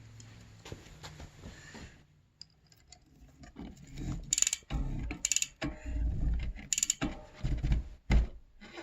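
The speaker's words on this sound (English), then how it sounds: "let me get my wrench and just tighten that up." Wrench tightening the lock ring on a Litepro S21 bicycle wheel, close, irregular metallic ratcheting clicks and clunks in short bursts after a quiet start, with no talk.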